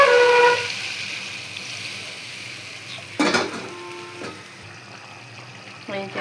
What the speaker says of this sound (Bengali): টমেটোগুলো দিয়ে দিলাম, দেওয়ার পরে যে সুন্দর করে কষাই নিয়ে